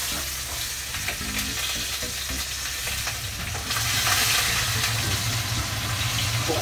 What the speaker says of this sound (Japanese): 今ぐらいの焦げ目具合で焼いていきます